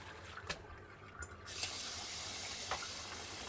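Food being rinsed in water in a home kitchen, a few soft splashes at first and then a steady loud rush of running water that continues to the end.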